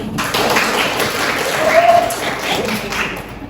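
A class answers a call to clap during a social studies lesson on Indonesia's natural resources, a moderate, steady patter of hands with a brief voice audible partway through.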